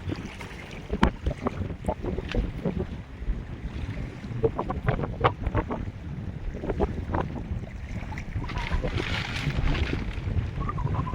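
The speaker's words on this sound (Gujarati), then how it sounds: "પવન સડસડાટ બોલે પવન નીકળી" Strong wind at sea buffets a fishing boat, giving a rough, gusting rush with microphone buffeting, splashing water and a few knocks and creaks, and faint voices in the background.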